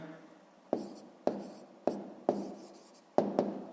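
Pen writing on paper during a sixth-grade maths exercise, six or seven short crisp scratching strokes at uneven intervals, close and quiet, with no talk.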